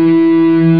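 A guitar rings out a sustained octave on E, one steady held tone with rich harmonics, loud and close, with no voice over it.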